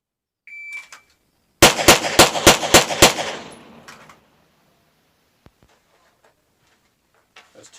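A Sig P320 pistol fires six rapid, sharp shots in quick succession during a shooting drill, preceded by a brief timer beep, with faint scattered sounds afterward.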